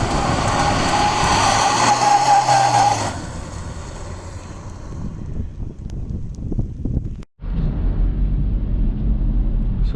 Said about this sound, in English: We're revving the motor, the rear wheels are spinning